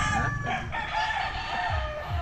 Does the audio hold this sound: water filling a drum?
no